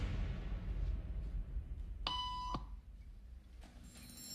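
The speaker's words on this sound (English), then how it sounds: "Beep means stand up." A single clean electronic beep of about half a second sounds during a social conformity experiment in a quiet waiting room. A brief faint tone follows near the end.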